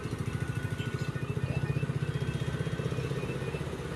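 The fuel pump motor of a fuel-injected motorcycle spins with a rapid, even pulsing whir, close and steady throughout.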